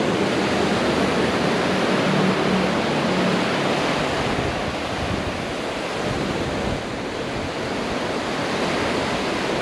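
Surf at the Cozumel shore, where surfers ride the waves: a loud, steady wash of breaking ocean waves fills the whole stretch, broad and rushing with some wind noise, no voices.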